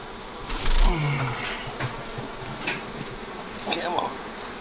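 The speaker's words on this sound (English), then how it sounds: "It's a really good swarm." A large honey bee swarm buzzes steadily while it is being removed from a house, a close, continuous droning hum with voices talking briefly over it.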